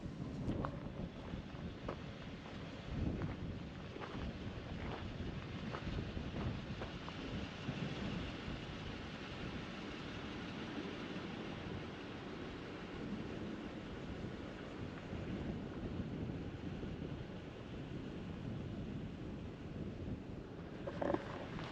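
Wind gusts buffet the microphone on a hilltop near Jerome, Arizona, overlooking the Verde Valley and Sedona, a steady roaring rush that rises and falls for the whole stretch.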